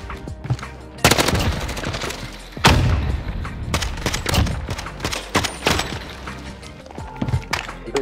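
Rapid gunfire in a video game, loud and close: several bursts of overlapping shots with heavy thumping blasts, then scattered single reports and a faint electronic tone near the end.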